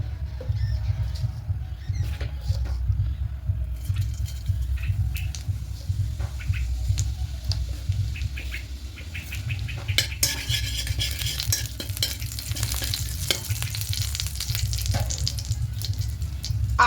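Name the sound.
whole cumin tempering in ghee in a wok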